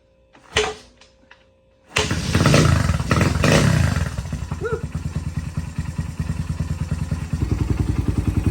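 A 1998 Honda XR100 dirt bike with a 22 mm Mikuni carburetor kicking over and starting, then idling with a rapid, loud, close thumping putter that picks up slightly near the end.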